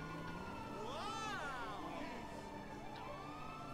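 Police car siren in Grand Theft Auto V, a wailing tone that sweeps up and down a few times, moderately loud, over steady game traffic and background noise with a voice speaking faintly.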